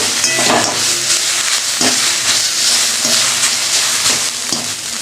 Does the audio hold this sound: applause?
no